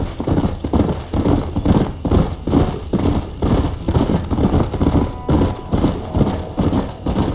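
Horse hooves trot in a steady, rhythmic clip-clop in Red Dead Redemption, loud and close, with faint clanking tack or carriage mechanisms under the beat.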